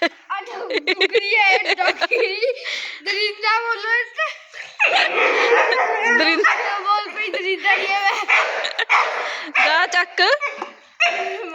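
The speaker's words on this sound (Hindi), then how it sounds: "हाय कुत्ता हाय कुत्ता चक हूं मेरे को डोगी चाहिए" A small puppy yips, barks and whimpers repeatedly in a home, close and loud, with excited voices of people talking over and between the cries.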